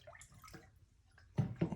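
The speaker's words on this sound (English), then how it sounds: "Next, we're going to add our water. We used distilled water." Distilled water poured into a container for seed milk, heard as quiet, low sloshing that swells into two louder gushing bursts near the end.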